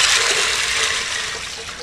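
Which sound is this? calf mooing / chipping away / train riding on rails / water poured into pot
water poured into pot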